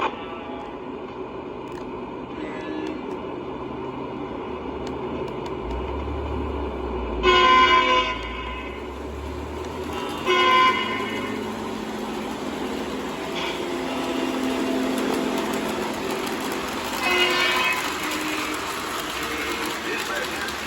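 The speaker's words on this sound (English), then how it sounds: "Right now, I'm running 2 trains." Two model railroad trains, including an F3 locomotive, run on a large home layout with a steady electrical hum and rolling noise, broken by a few short horn toots spaced several seconds apart.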